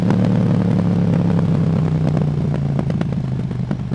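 A KTM 790 Duke twin-cylinder motorcycle engine with an Akrapovic exhaust idles and rumbles steadily with a low throbbing drone and scattered crackles, loud and close.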